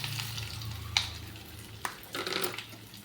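Bitter gourd frying in a pan with garlic masala and curry leaves, a soft steady sizzle broken by a few sharp stirring clinks and scrapes of a utensil.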